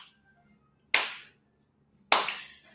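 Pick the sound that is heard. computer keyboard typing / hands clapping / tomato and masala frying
hands clapping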